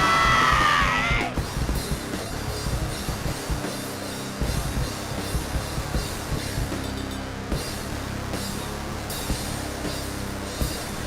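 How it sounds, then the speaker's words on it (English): Raw screaming vocals over a loud, dense rock song playing at a Christmas show, harsh shouted singing blended with driving drums and guitars throughout. "Who's doing the screaming in that song?"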